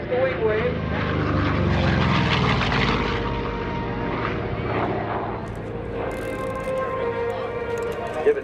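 FG-1D Corsair propeller warbird passing at an airshow, a loud rumbling engine drone that swells and fades as the aircraft goes by, with an announcer talking over it.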